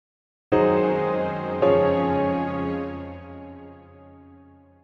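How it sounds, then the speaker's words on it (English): A sustained piano chord, a secondary chord in third inversion, sounds and then moves into a first-inversion Neapolitan sixth chord that rings out and slowly decays, heard alone without talk. "another demonstration which is the secondary chord is in third inversion and wants to resolve to the first inversion Neapolitan chord"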